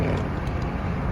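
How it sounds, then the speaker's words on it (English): A big truck rumbles nearby on a roadway, a steady, loud, low-pitched engine drone filling the short moment with no voices. "there's a whole bunch of noise from this big ass truck up here"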